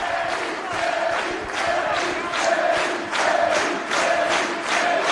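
A wrestling crowd at the 2005 IWA-MS Ted Petty Invitational cheers loudly and continuously on its feet, a dense roar of voices swelling in rhythmic waves like chanting, filling the hall without a break.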